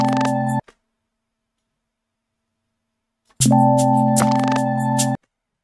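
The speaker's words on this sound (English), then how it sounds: "The Jupiter chord layer." Loud Jupiter synthesizer chord layer, two sustained bright chords separated by a silent gap, each cut off abruptly, with no talk.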